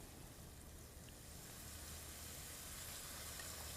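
Peeled shrimp with the tails left on go into a hot pan for pad thai, giving a steady, even sizzle that stays quiet and constant throughout.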